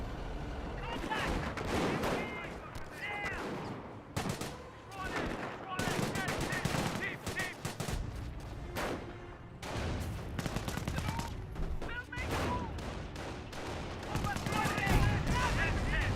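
Gunfire and grenade blasts from a Company of Heroes battle, with Volksgrenadiers throwing grenades against a Churchill tank and bunker: dense, continuous bursts of shots and explosions, loud and layered under an excited commentator talking throughout.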